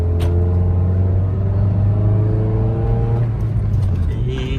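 Car engine roaring at high revs with a steady loud drone, close and continuous, holding strong before easing near the end; voices talk faintly underneath.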